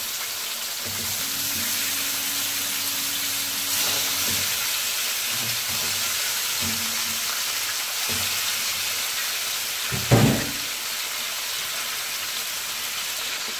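Chicken pieces sizzle in a pan over high heat, a loud steady crackling hiss that runs the whole time, with a few faint clinks and one sharper clatter near the end.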